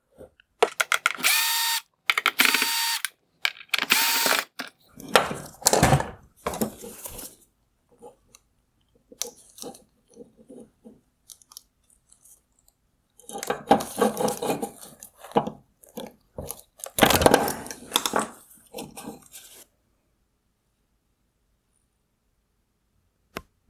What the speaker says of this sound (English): Next, I'll remove the Phillips head screws holding in the lower projector.